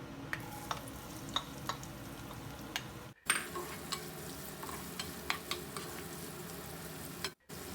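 Finely chopped onions hitting hot oil already seasoned with cumin and fennel seeds, a steady soft sizzle with scattered small crackles and two brief gaps where the frying noise drops out.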